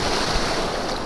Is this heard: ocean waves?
yes